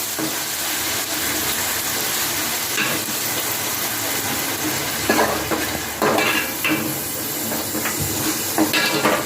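Onions frying in hot spiced oil in a pan, a loud continuous sizzle and hiss with bursts of stirring and spatula scrapes, close and with no talk.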